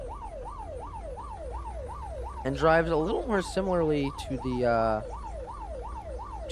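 Fire Chief vehicle siren in the video game Unturned, a steady wailing rise-and-fall cycling through the whole stretch, with someone talking over it midway.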